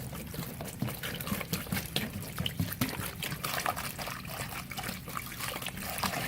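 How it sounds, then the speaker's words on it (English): A gallon of water is poured quickly over an Eco Earth coconut fiber brick, giving a continuous trickling, splashing pour with uneven gurgles, close and moderately loud. "So lovely assistant, you may pour the water on the brick."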